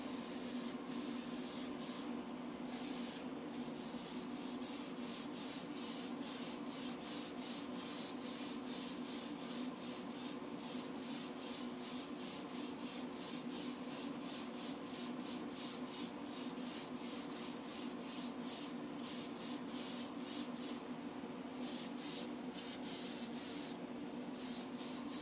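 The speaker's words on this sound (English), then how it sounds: "I was just about to do a very light coating of some Cosmic Sparkle Silver" Silver spray paint hisses from an aerosol can onto a Hot Wheels Volkswagen bus model in one long, steady, close spray with brief flickers of nozzle sputter.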